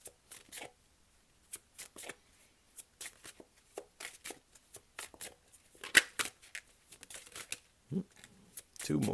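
Tarot cards are shuffled and drawn in a quiet room, with soft irregular riffles, slaps and flicks in short bursts separated by silence, close and fairly faint, and a voice speaks now and then.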